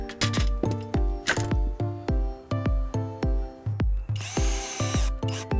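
A power drill drives a placeholder screw through the hinge rail of a screen door in short repeated bursts, each whining up and cutting off, close and loud, followed by a brief hissing rasp near the end.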